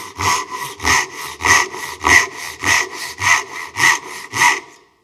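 A Japanese hand saw rasps through wood in steady, even strokes, about ten close, loud pulls in a regular rhythm, then stops.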